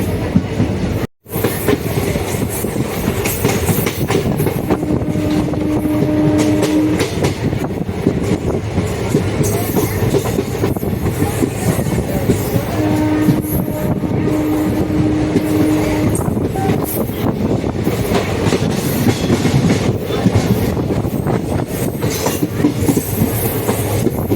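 A steady, loud rumble of a moving train approaching Karur railway station, India, with rhythmic clickety-clack of wheels over rail joints and occasional faint squeals, heard from on board.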